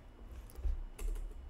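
Typing on a computer keyboard while writing HTML code, a few soft key presses heard close and quiet, with no talking.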